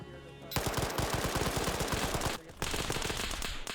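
Rapid automatic gunfire from a military shooter game set during an Arma security operation on the Lythium map, loud and close, a steady stream of shots broken by a brief pause before the firing resumes.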